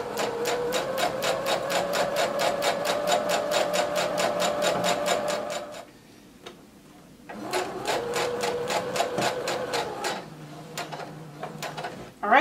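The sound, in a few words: sewing machine stitching a maxi skirt side seam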